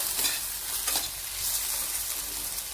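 Potatoes frying in ghee in a pan for sabudana khichdi, a continuous bright sizzle with occasional stirring swells, close and fairly loud.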